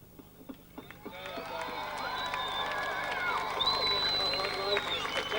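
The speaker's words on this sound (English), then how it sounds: "I join in that hand clapping again" A crowd at a Bendigo Speedway super sedan trophy presentation breaks into applause and cheering, with the sound building steadily and staying sustained and moderately loud for several seconds.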